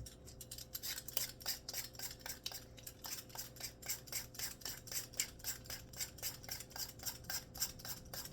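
Parsnips are peeled and then chopped for iguana food, producing a quiet, regular run of quick scraping and cutting strokes at a steady rhythm, with no voices.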